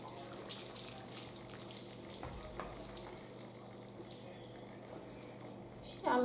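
Warm water being poured into a bowl of dry dough ingredients for egg-free, milk-free dough: a soft, steady trickling splash under low background noise, ending in a brief louder pouring burst.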